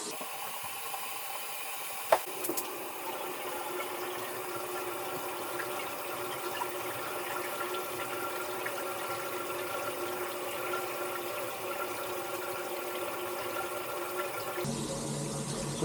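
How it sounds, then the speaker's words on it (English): Water runs steadily from sink taps in a house, a continuous close hiss and rush with a brief clunk early on, cutting off abruptly near the end. "I'll turn some other sinks on to increase that."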